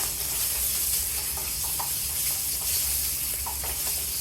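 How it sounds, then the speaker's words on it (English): Marinated chicken frying in a pan gives a steady, dense sizzle and hiss close up, with a few faint clinks and no voices. "this is chicken I'm putting in there. I'm frying it."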